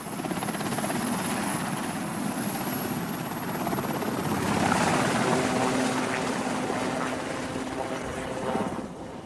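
A helicopter roars steadily nearby, its rotor thump and engine whine swelling louder toward the middle, then easing slightly.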